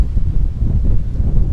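Strong wind buffets steadily on a mountain summit in Mongolia, a loud, low, continuous rumble close to the microphone with no voices.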